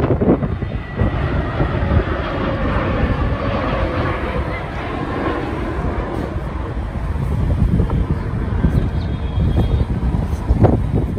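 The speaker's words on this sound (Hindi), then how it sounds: "इस परिसर के ऊपर से उतरते चढ़ते हवाई जहाज़ों को देखना एक एक्साइटिंग अनुभव देता है" Airplanes landing and taking off near Delhi airport, heard from an open temple compound in Mahipalpur: a steady, fairly loud broadband roar with wind rumble that swells slightly near the end.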